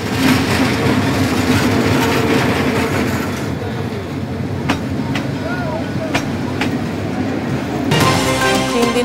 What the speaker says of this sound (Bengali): সকাল থেকে সারা দেশে ট্রেন চলাচল শুরু